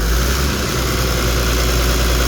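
A car engine idles steadily with a low, constant rumble and slight vibration, close by, with no voices.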